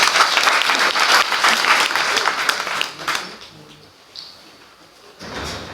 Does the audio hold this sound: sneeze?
no